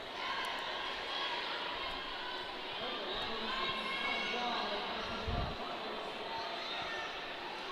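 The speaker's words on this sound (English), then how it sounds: "that's a rapturous amount of noise from the crowd here at Event City" A roller derby World Cup crowd at Event City roars steadily and loudly across the arena, a broad sustained din with a voice talking over it.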